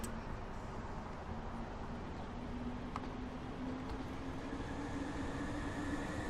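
A high-speed train in the Transport Fever video game, running at 186 miles per hour, gives a steady broadband rumble with a faint tonal whine, constant and moderately quiet throughout.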